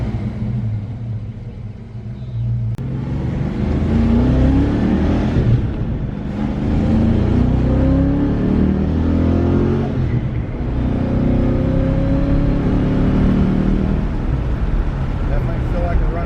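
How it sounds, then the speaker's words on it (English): Ford Mustang Cobra Fox Body with a 5.0L V8 on a road test drive, its engine rumbling steadily and swelling with acceleration in long surging pulls, heard from inside with a voice talking over it. "Let's go ahead and get this out on the road and take it for a test drive"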